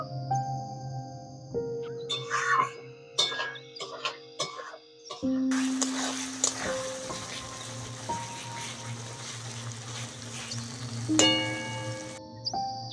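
Spice paste for chicken muithya sizzles and fries in a pan, a steady crackling hiss that swells louder midway, with scattered clinks and stirring scrapes and no talking.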